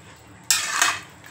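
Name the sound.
stirring ghee into the biryani mixture in a pot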